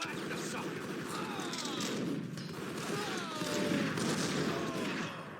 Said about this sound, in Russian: я здесь расстреливаю врагов с берет